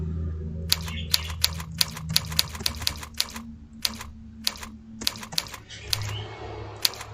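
Keys on a computer keyboard clack in irregular bursts during a typing lesson, sharp close taps with short pauses between groups, over a faint low background hum.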